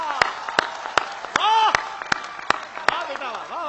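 Rhythmic, evenly spaced hand claps from an audience at a Hindi poetry recital (kavi sammelan), sharp and fairly close, beating steadily under a singing or speaking voice.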